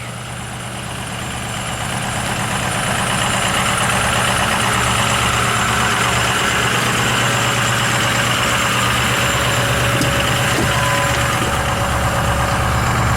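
A 6.0 truck engine runs at high idle, a loud, steady, pulsing rumble that swells over the first couple of seconds and then holds constant, close by with no talking.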